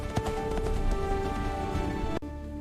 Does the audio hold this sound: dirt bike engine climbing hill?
no